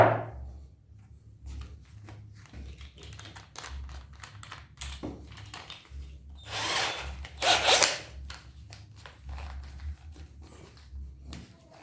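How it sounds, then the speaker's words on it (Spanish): A drill grinds through material in short uneven bursts, testing a drill bit freshly sharpened with an angle grinder, with clicks and rattles around it and a louder stretch of drilling partway through. "Entonces ahora vamos a hacer la prueba de taladrado."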